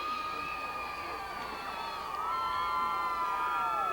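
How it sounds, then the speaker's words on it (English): Crowd at a stock car race on a cool night, cheering and whooping for the drivers, a steady wash of voices with higher shouts rising and swelling louder partway through. "You can hear the crowd giving the drivers a big hand"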